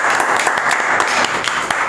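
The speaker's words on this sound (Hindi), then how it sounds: "तालियां।" Classroom applause fills the moment, a steady, dense burst of many hands clapping together for about two seconds.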